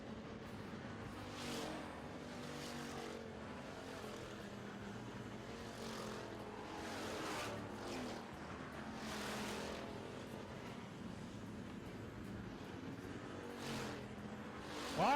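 Pure stock race cars circling a track in a feature race, engines droning steadily with repeated swelling pass-bys at a moderate distance, a continuous roar without pause.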